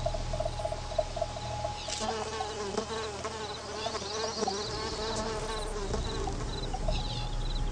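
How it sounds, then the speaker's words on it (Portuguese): Steady insect buzzing of flies, dense and continuous, with several wingbeat drones overlapping at close range and no voices. "Esse zumbido que as moscas fazem é geralmente resultado do movimento das asas."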